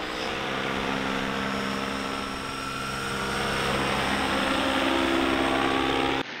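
An electric paramotor's propeller drones steadily during a flyby over a river, a loud, continuous airy whir that swells slightly and holds near throughout, with wind noise and no speech.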